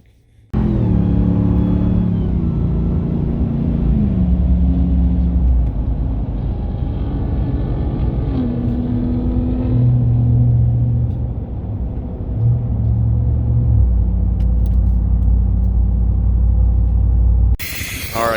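A Ram TRX or Ford Raptor off-road pickup rolls up at a gas station, its loud V8 engine revving and shifting through gears in a deep, sustained rumble close by.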